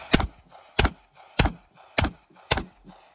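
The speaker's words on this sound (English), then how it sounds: "6 rounds of 45 ACP out of this High Point carbine in the HTA stock" Five sharp, evenly spaced gunshots of .45 ACP from a Hi-Point carbine in an HTA stock fired at a bulletproof vest ring out about once every 0.6 seconds, each a loud crack with a short decay, with no talking.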